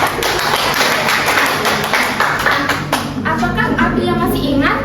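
A classroom clapping game called 'tepuk berani' fills the room with loud, rhythmic rounds of hand claps by pupils. Chanted voices join in and carry the beat through the later part.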